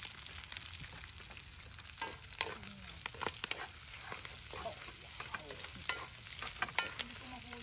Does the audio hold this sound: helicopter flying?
no